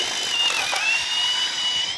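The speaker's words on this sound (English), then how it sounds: "what I'm going to do then is drill up through" Power drill boring up through roof timbers for a flitch beam garden room roof, a steady high-pitched whine with a slight dip in pitch as it bites, close and loud with no talking.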